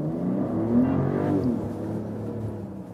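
A Mercedes GLE 450 SUV engine accelerates with a muffled, low drone that rises in pitch and then settles, heard from inside the cabin, moderately loud with no talking.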